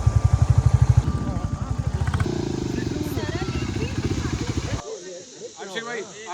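A motorcycle engine throbs with a rapid pulsing idle, then revs into a steady rumble, close and fairly loud, with talking over it.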